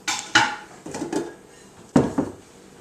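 Bread dough being mixed by hand in a mixing bowl, with a few scraping knocks of a utensil against the bowl in irregular bursts, close and fairly loud, no talking.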